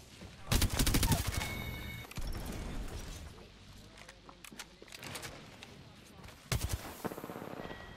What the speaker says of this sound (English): You can shoot through the... You shoot through the wall.